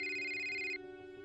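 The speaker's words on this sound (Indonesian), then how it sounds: "tiba-tiba papaku telepon." A telephone rings for an incoming call, a steady electronic tone that cuts off abruptly partway through, leaving a faint lingering hum, close and moderately loud.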